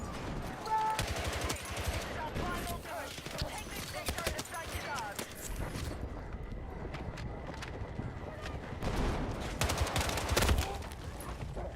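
Rapid shotgun blasts in the Battlefield 6 video game, repeated sharp bursts of gunfire mixed with footsteps and in-game commotion, with a player talking over the action throughout.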